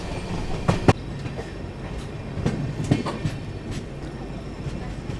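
An LHB-coach Garib Rath Express runs near Khurja Junction, with a steady rumbling roll and a few sharp rail-joint clacks in quick pairs, loud and close from onboard.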